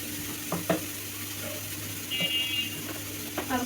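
Oil sizzling in a pan while atta noodles fry, a steady close hiss broken by a few light clinks and scrapes of stirring.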